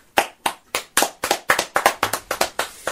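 A slow, polite golf clap: about a dozen evenly spaced, crisp hand claps from a small group or one person, close and alone with no talk.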